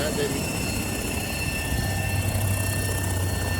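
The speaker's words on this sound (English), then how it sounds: "definitely don't have enough pitch in the tail rotor" An RC helicopter with too little tail rotor pitch whirs and buzzes steadily during a shaky test flight, a continuous close-up mechanical drone with a high whine.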